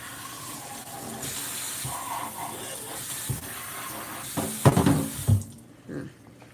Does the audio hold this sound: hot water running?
yes